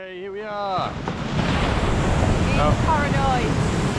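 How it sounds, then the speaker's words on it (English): Dense, roaring wash of big ocean waves on a Tobago beach, with wind noise, heard under brief voices at the start and again midway. "Whoa, look at the big waves."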